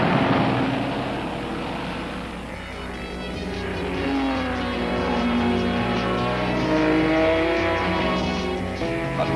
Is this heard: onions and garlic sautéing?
no